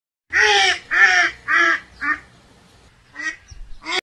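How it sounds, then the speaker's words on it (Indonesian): A duck quacks loudly nearby, three or four strong nasal calls in a row, followed by a pause and a few softer, quicker quacks. "Bebek."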